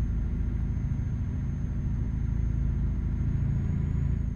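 Truck engine in Euro Truck Simulator 2 on a snowy Iceland road trip, a steady low rumbling drone held at an even pace with a thin high whine above it, continuous and close.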